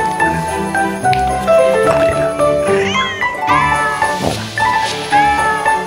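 A house cat meows repeatedly in a cluster of loud, close, rising and falling cries, with some overlapping yowls and a faint jingle.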